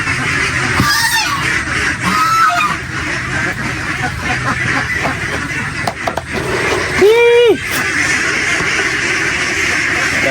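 Ducks on a duck farm call out while waiting to be fed, giving a few nasal, honking quacks scattered over steady outdoor background noise, with one louder drawn-out call near the end.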